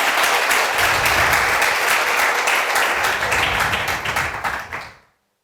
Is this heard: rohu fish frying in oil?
no